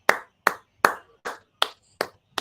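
Seven separate handclaps at a slow, steady beat, each one sharp, fairly close and equally loud, with quiet gaps between them and no talking.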